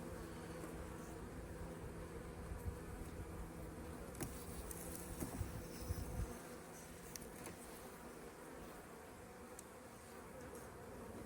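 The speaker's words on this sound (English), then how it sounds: "a lot of these bees look to be up here trying to do some work" A dense, continuous buzz of many honey bees on a hive frame up close, steady and low, with no voices.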